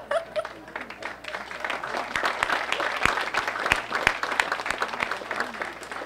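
Hall of Fame 2018 ceremony crowd applauds honoree Mort Rosenblum with dense, sustained clapping that swells and holds for several seconds.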